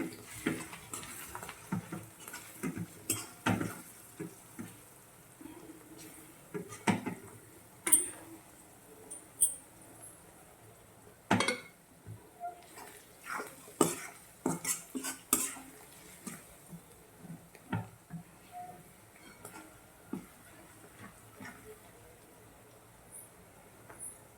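A spoon stirs fenugreek leaves and peas with garam masala and coriander-cumin powder in a pan, giving irregular scrapes and clanks against the metal over a quiet low sizzle, with no talking.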